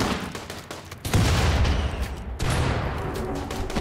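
Incendiary launcher firing in the Rimworld video game: loud, dense bursts of gunfire-like blasts with two sharp onsets, sustained and heavy throughout.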